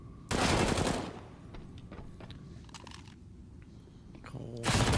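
Rapid bursts of MP9 submachine-gun fire in a Counter-Strike match, a loud dense volley at the start and another at the end, with softer game sounds and faint commentary between.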